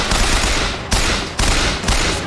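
Gunfire in the video game BioShock Infinite, loud close shots in a quick rhythm of roughly three sharp bursts, each trailing off before the next.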